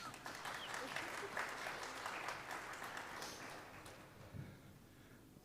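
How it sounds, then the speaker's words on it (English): Thin, fairly sparse audience applause at a live daily show, steady clapping that runs for several seconds and gradually thins out toward the end. "That was a pretty miserable applause, really"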